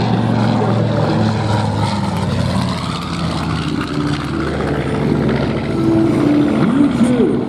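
The propeller engines of a B-25 bomber drone steadily and loudly at an airshow, with an announcer talking over the continuous engine roar throughout.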